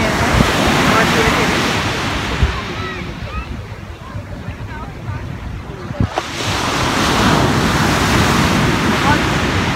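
Ocean waves roll onto Jumeirah beach in Dubai at sunset, a loud continuous wash of surf mixed with heavy wind rumble on the microphone, swelling again after a brief lull, with distant voices faint in the background.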